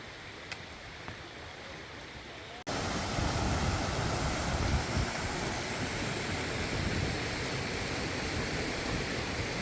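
Eun waterfall on Naeyeonsan in Pohang pours down as a loud, dense roar of rushing water that begins abruptly after a quieter opening and holds steady to the end.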